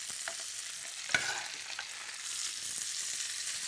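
Brussels sprouts sizzle as they fry in a hot pan, with a sharp clink of the spoon early on and soft stirring over a continuous close hiss, no talking.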